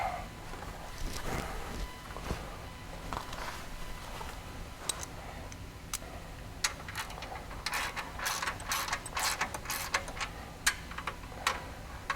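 A hand ratchet tightens skid plate bolts on a Polaris RZR Pro XP4, giving bursts of rapid, close clicking in short runs with pauses in between.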